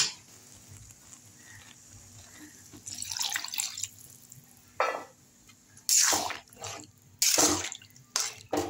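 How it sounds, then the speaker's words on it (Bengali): Rinse water from a kitchen mixer grinder is poured into a bowl during home cooking, landing in a few short, splashy gushes with quieter gaps between them. "এই মিক্সি ধোয়া জল, বাটিটাতে ধোয়া জলগুলো সব দিয়ে দিলাম।"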